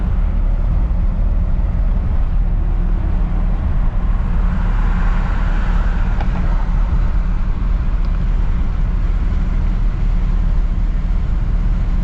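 A 1959 Chevrolet Bel Air cruising on Woodward, its engine and road noise forming a steady, loud, low rumble throughout with no talking.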